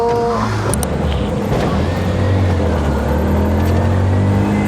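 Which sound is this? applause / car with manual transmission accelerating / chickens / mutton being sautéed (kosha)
car with manual transmission accelerating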